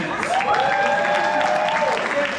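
Stand-up comedy audience applauding steadily and loudly throughout, with a raised voice or whoop ringing out over the clapping near the middle.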